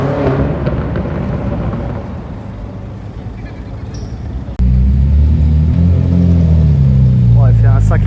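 A Lamborghini Urus Spider sports car engine rumbling and then surging into a loud, close rev partway through, with someone talking over the first part.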